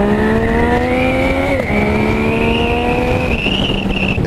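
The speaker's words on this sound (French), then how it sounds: "le bruit du pot quand on accélérait vraiment à fond" A motorcycle exhaust roars at full-throttle acceleration on a road near Lyon, a loud steady drone that rises in pitch with a brief shift midway, heard close and continuous with no talk.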